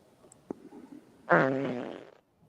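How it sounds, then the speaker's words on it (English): A recorded fart plays back as one drawn-out, buzzing blast of a bit under a second, after a couple of faint clicks and ending abruptly in near silence. "I'm guessing it's just 3 hours of farts. Let me just hear it."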